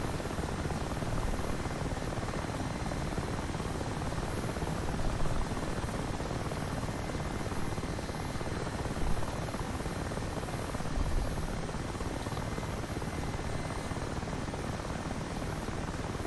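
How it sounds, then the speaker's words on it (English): Mi-8 Hip helicopter in DCS World flight simulation, a steady, dense rotor and turbine drone holding an even level throughout with no breaks or talk. "So we're flying a bit of Mi-8 today"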